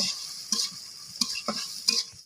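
Onion and green chillies fry gently in a pan, a soft sizzle broken by four scraping stirs of a spatula against the metal, close and without talk.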